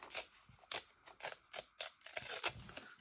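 Scissors snip through a piece of paper for a strawberry-themed collage, a run of about nine close, crisp cuts in an uneven rhythm with no voice over them.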